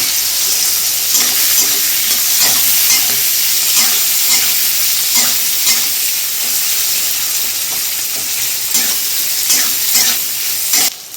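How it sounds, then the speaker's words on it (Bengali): Shrimp and sliced onion fry in a pan with panch phoron spices, a loud, continuous close sizzle with scattered stirring scrapes throughout. "পেঁয়াজ চিংড়ি মাছটা আমার একসঙ্গে ভাজা হয়ে গেল"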